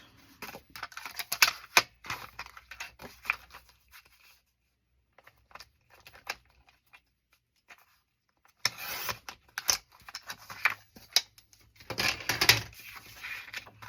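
Journal paper being trimmed with scissors or a cutter, a run of close, dry snips and rubbing rustles, a quiet gap, then another burst of cutting sounds.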